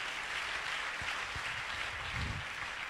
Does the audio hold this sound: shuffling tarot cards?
no